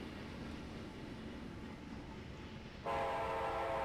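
A train braking to a stop in a train simulator video game, with steady rumbling rail noise that turns into a louder tonal squeal or horn-like drone near the end, no talking.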